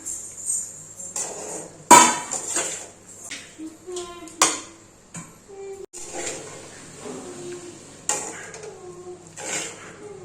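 Pasta being mixed in a pan at home: a spatula scrapes and clanks against the metal in irregular strokes, with sharp knocks standing out from softer stirring and sizzling between them.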